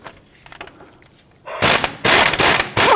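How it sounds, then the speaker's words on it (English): An impact gun rattling hard on a 24mm or 15/16 steering rack nut on a 2007-2021 Toyota Tundra, quiet shop clicks first, then loud close bursts of hammering. "put a socket on here and use your impact gun and rip that right off"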